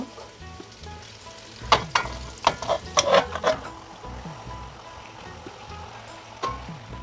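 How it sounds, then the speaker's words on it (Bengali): Marinated meat frying with spices in a pan for achari mangsho, a steady sizzle broken by a cluster of sharp scraping and clattering stirs, then quieter frying with one more stir near the end. "নেড়ে চেড়ে মাংস কষিয়ে নেব"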